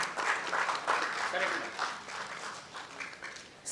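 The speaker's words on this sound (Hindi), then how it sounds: "तालियों की गड़गड़ाहट महसूस होना चाहिए और विश्वास कीजिए कि आपकी तालियां हम कलाकारों के लिए दवा का काम करती हैं" Audience applause at a theatre festival opening, a broad steady wash of many hands clapping that carries on for several seconds, loud at first and thinning slightly toward the end, with a voice faintly underneath.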